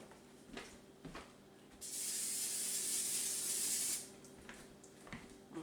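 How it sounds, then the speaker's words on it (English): A single sustained hiss of cooking spray onto a pan, lasting about two seconds, close and fairly loud, between quiet handling noises. "I believe I'm going to spray my pan"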